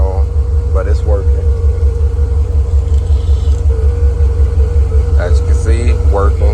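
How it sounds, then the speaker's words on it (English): A car's blower motor runs with a steady low rumbling hum and a faint whirring tone, while a person talks over it close by. "Also got the blower motor working. I know it makes some kind of noise when you turn it on"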